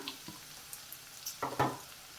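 Garlic dropped into hot oil in a pan while making a fish pickle, a quiet sizzle with a few light taps and a brief louder crackle near the end, no talking.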